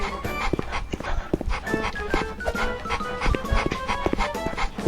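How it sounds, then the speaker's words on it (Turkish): A dog in the Roblox game Mad City gives repeated short barks in an irregular rhythm, loud and close, mixed with game sounds. "Aha köpek."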